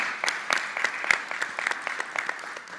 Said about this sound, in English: could you give my colleague a round of applause for his partnership?